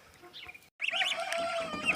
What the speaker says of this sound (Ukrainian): старша група гусенят, які вилупилися в інкубатор